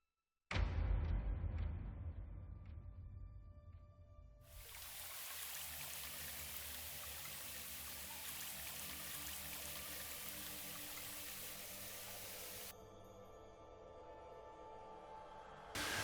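A stream of water flows steadily through the Barranco de los Cernícalos ravine on Gran Canaria, a constant close rushing that sets in after a few sharp knocks at the start and then continues unbroken.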